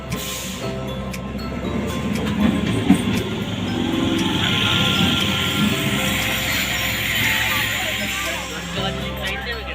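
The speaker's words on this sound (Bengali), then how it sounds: "তো ফাইনালি ট্রেনটা চলে আসলো।" A Sealdah-bound train pulls into platform 12 at Kazipara railway station, a sustained rumbling roar with faint clicks and squeals of wheels on rail, steady and fairly close throughout.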